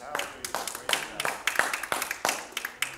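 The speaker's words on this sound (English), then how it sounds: "Give him a hand clap tonight." Church congregation clapping hands in rhythm during a Wednesday evening service, a roughly steady beat of claps at moderate distance mixed with voices.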